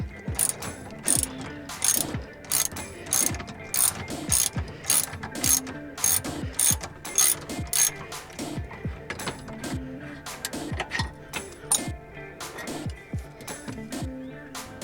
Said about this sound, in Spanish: Con el dado de 14 milímetros vamos a aflojar este tornillo que tenemos aquí